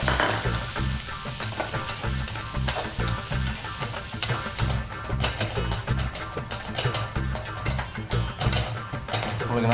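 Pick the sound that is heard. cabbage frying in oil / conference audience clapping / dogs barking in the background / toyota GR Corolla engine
cabbage frying in oil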